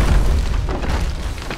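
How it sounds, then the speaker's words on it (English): A Dota 2 tower falling, a single loud, low, rumbling boom that fades out over a second or two. "Radiant's top tower has fallen."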